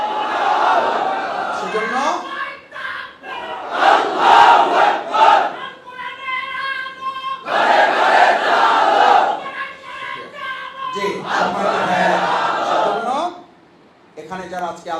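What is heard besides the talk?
rally crowd chanting Allahu Akbar in response to Nara-e Takbir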